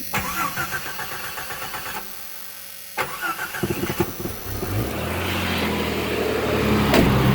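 A 1988 Jeep Cherokee XJ with a fuel leak cranks in a long, rhythmic churn for about three seconds, pauses, cranks again, then catches and settles into a steady, rising idle.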